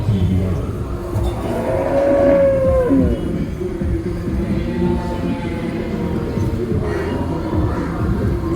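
At the Chattiparamba cattle market, packed with cows the day before market day, a single drawn-out moo rises over a busy, rumbling background of livestock and crowd noise.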